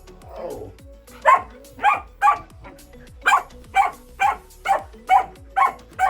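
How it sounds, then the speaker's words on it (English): A dog barks repeatedly in a steady rhythm indoors, about ten sharp, loud barks close by, with a brief whimper-like sound just before them. "I don't want to hear the barking."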